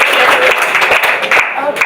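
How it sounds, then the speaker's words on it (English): Audience applause at a literary reading in a café, dense rapid clapping close by with a few scattered voices mixed in. "So let's have a big round of applause."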